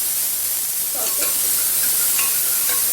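Chopped and fried onion sautéing in a pan over a medium flame for a potato and khoya curry, giving a loud, constant sizzle with a few soft stirring scrapes in the middle.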